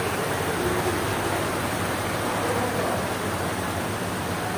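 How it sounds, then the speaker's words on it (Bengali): Dense, steady rain pours down in a constant hiss without pause, heavy and even throughout. "প্রচুর ঝুম ঝুম ঝুম ঝুম, সেম সেম বাংলাদেশের মতন বৃষ্টি হচ্ছে"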